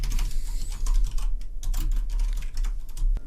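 Steady typing on a computer keyboard, a dense run of close, crisp key clicks with no talk, as code is entered.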